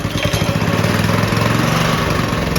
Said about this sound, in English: I'm ready to start it up, so I'm gonna flip the on switch on, choke.